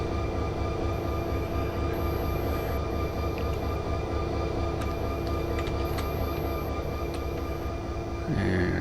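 A train runs steadily in the Run8 train simulator game, giving a continuous, loud mechanical rumble with steady tonal hums, high whines and occasional clicks. No one speaks over it.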